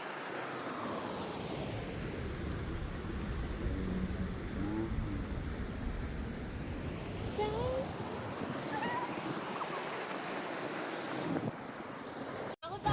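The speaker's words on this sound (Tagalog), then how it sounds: "andito kami ngayon sa ilog" River water flows steadily and continuously at close range, a broad rushing wash mixed with wind buffeting the microphone.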